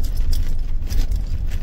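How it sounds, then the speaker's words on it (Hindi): Army duty vehicle approaching on a mountain road through a landslide zone on the way from Delhi to Manali, a low steady engine rumble close by over a brief stretch, no speech. "ऑन आर्मी ड्यूटी की गाड़ी आती हुई"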